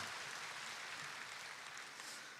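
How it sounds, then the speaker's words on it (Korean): Soft, distant applause from a church congregation during a Sunday morning worship service, a steady wash of many hands clapping at low level with no talking. "사랑의 박수 올려드리겠습니다"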